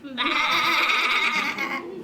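In a stage drama performance of Animal Farm, a sustained, wavering sheep bleat lasts nearly two seconds at steady loudness, most likely voiced by performers imitating the animals.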